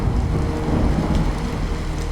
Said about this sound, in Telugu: రక్తపు చుక్కలతో, మాంసపు ముద్దలతో కూడిన వర్షం మొదలైంది.